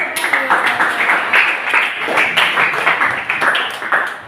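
A class at a Surabaya junior high school breaks into a burst of clapping, the claps steady and overlapping across several seconds while voices carry underneath.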